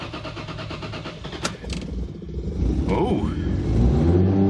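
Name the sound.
Toyota Supra engine starting and revving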